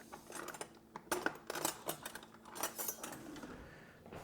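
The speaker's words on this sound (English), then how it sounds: "So I'll get a fresh knife." Metal cutlery clinking and jangling as a fresh knife is picked out from among other utensils in a kitchen, a series of quiet close clicks and rattles.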